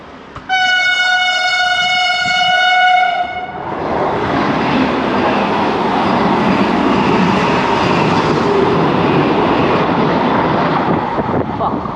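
A loud train horn blares, then a fast Vande Bharat express train rushes past nearby with a strong, steady roar of wheels and wind.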